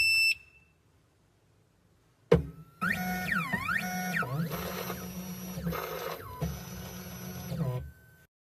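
Tank CNC key cutting machine powering on after a short silence, with a sharp start followed by steady electronic tones, sweeping pitched chirps and motor whine, fairly loud and alone until it cuts out near the end.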